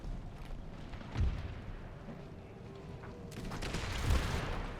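Cannon and musket fire in a battle in the strategy video game Empire Total War: two heavy booming blasts rise over a continuous rumbling battlefield din, with crackling volleys in between.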